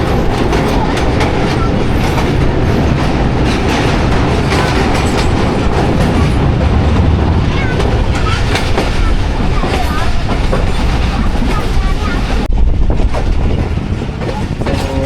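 The Shah Hussain Express runs on the Karachi–Lahore line, a loud continuous roar of rolling wheels with rhythmic clickety-clack over the rails, heard from inside the moving train.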